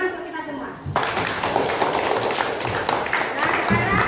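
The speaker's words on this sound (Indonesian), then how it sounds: "Ya, tepuk tangan untuk kita semua." Classroom applause from a group of children and teacher breaks out suddenly after a quiet opening and continues as a dense, steady clatter of many hands to the end.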